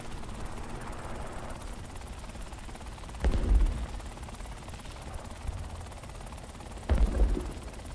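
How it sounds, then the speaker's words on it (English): A helicopter fitted with a 20mm cannon in the combat video game War Thunder drones steadily with a rotor thrum, broken by two short bursts of cannon fire. "This chopper is something to look at."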